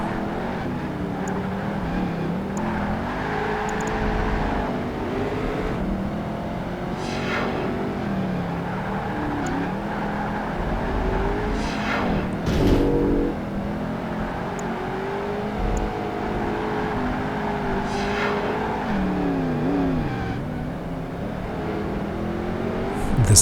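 A Ford Mustang engine roars continuously in the racing video game Project Gotham Racing 2, with sustained revving that rises and falls through gear changes and corners, loud and close with no talk.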